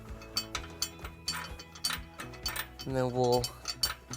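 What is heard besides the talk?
19mm wrench turning bolt onto flange nut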